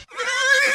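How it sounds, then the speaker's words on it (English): A wild stallion lets out one loud, close neigh that rises into a sustained, quavering whinny. "Is that a horse?"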